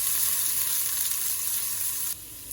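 Finely chopped onion sizzles in a pan for pizza sauce, a steady bright hiss close up that suddenly drops to a softer fizz near the end, with no voices.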